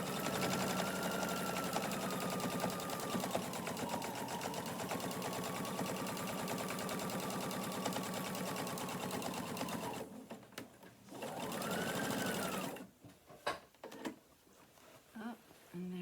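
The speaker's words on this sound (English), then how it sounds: "you want to stitch right on that edge, right on that folded edge," Sewing machine stitching along a folded fabric hem, a steady close whirring run for about ten seconds, then a brief second burst after a pause, ending with faint handling clicks and shuffling.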